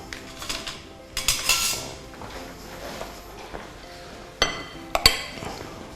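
A metal spoon clinks and taps against dishes in a kitchen while apple turnovers are being made, with a few scattered bright clinks and light knocks at close range.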